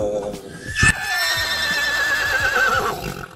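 A horse pulling a horse-drawn carriage in a town centre whinnies loudly with a long wavering neigh, while people chatter in the background.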